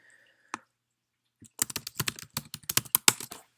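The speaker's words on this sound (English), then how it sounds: "Oops, I should type up here." Typing on a computer keyboard during data-screening work in R: one isolated keystroke, a pause, then a quick, close burst of clicking keys at a steady uneven rhythm, fairly quiet with no talk.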